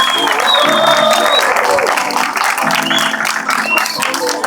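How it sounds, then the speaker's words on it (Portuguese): A show audience claps and cheers, loud and dense, with a crowd roar around it; an amplified voice and music run through the applause. "Pode aplaudir, pessoal."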